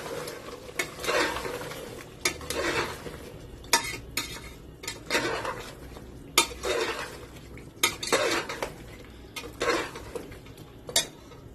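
A spoon stirs yogurt frying in a pot for mutton korma. It scrapes and clinks against the metal in irregular strokes over a steady soft sizzle, close up and with no talking.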